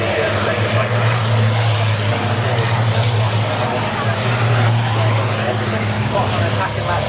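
A MAN racing truck engine roars at British Truck Racing on the way toward Druids, a loud, steady droning growl that holds throughout while a commentator talks over it.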